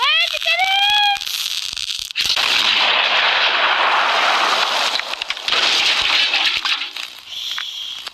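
Mortar cannon fireworks fire in the video game Fireworks Mania, a rapid string of loud explosive bursts and crackles filling most of the clip after a few rising whistles at the start.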